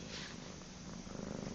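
A black kitten purrs up close in a steady, unbroken rumble, with a slight swell in loudness toward the end.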